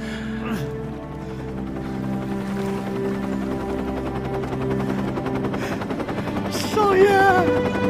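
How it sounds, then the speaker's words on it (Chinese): Aircraft approaching in an adventure action film, a steady droning engine hum with rapid beating that grows slightly louder, while a person exclaims over it near the end. "喂，飞机来了！"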